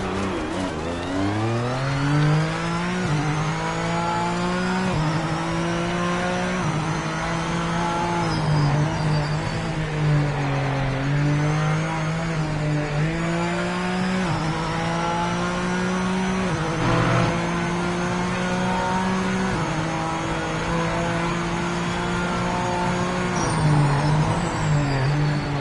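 Race car engine in Project Motor Racing, a loud, steady buzzing drone rising and falling through gear changes and revs over a long lap, with occasional tire noise and no talk.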